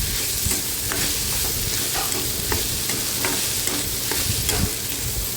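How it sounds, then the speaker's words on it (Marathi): Roasted okra being stirred into a spice mixture for bhendi bhaji, with a steady, loud sizzle of frying throughout and repeated scraping strokes of a spoon against the pan. "आपण भाजून घेतलेली भेंडी याच्यामध्ये घालायची आहे आणि हे सगळं एकजीव करून घ्यायचं आहे आपल्याला"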